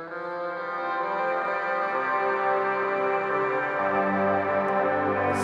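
A sustained, washed-out guitar drone from the Zynaptiq Wormhole plugin, with blurred, smeared layers of tone, moderately loud and steady, with no talking.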